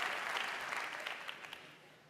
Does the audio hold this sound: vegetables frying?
no